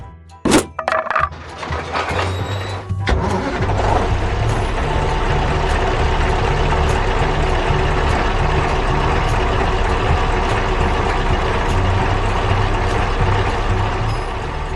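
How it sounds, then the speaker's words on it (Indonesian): A dump truck speeding along, its engine holding a loud, steady rumbling drone after a few sharp knocks and thumps at the start. "Truknya mulai melaju kencang."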